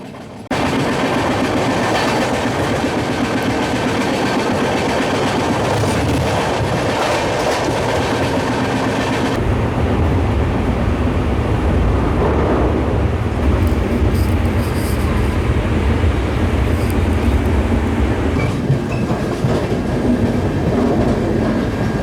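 A double-decker express train, number 22625, runs from Chennai to Bengaluru with a steady, loud rumble and rhythmic clickety-clack of wheels over rail joints, continuous throughout with no one talking.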